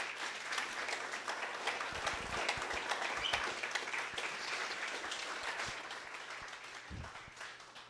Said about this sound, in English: Please join me in giving her a well-deserved round of applause.